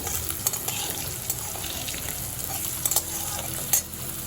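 Turmeric and asafoetida being stirred into potatoes frying in a pan for a no-onion, no-garlic pumpkin dish, a steady close sizzle with a few sharp spoon scrapes and clicks against the pan.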